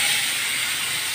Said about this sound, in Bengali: প্রথমে নুন হলুদ দিয়ে মাছটাকে মেখে রেখেছি, এবার ভাজতে দেবো।